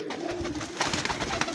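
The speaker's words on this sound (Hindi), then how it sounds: "ये उस्ताद जी के प्रिंस कबूतर हैं, प्रिंस कमगर।" Prince Kamgar pigeons coo softly in a loft, with low repeated murmuring calls over steady background noise.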